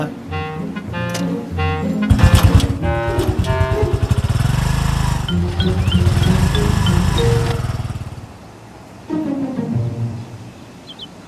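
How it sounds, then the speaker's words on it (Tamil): An auto rickshaw engine starts and runs with a putt-putt idle, steady and fairly loud, under a busy mix of music and street noise. "மச்சான் இன்ஜின் ஆன் பண்ணு."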